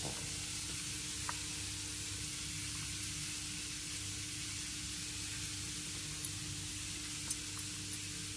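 A steady sizzle of chopped onion roasting in a hot pan, a constant soft crackling hiss with a few faint ticks and pops near the end.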